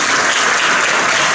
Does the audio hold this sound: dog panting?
no